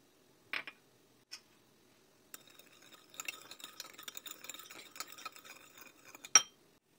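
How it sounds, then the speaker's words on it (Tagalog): Chicken broth, seafood soy sauce and sugar get stirred together in a small bowl, with a couple of isolated clinks first, then a few seconds of light rhythmic scraping and tapping of a utensil against the dish, ending in a sharper knock. "Pagsama-samahin lang natin, at haluin."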